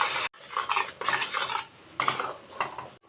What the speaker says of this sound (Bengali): এবারে সব কিছু খুব ভালো করে ভাজবো।